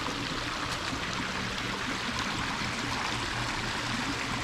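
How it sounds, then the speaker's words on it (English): A clear city creek flows steadily nearby, a continuous broadband wash of running water with no voices over it. "Hence the name City Creek."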